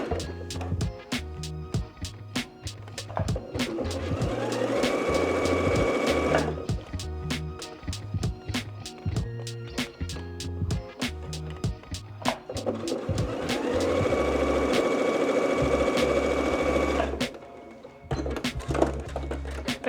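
An embroidery machine stitches a key chain in fast, steady mechanical bursts of needle thumps with whirring motor tones, pausing briefly now and then before picking up speed again.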